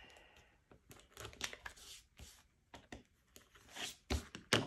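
Rotary cutter slicing along the fabric edge of a clutch wallet being sewn, giving a series of short, scratchy cutting bursts with small pauses between them, fairly close and alone.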